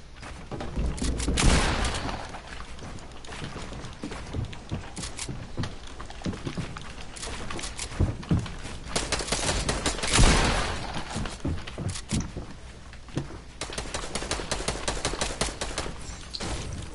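Rapid bursts of gunfire in a Fortnite match crackle almost continuously, with clustered volleys and a few louder shots standing out, fairly close and dense throughout.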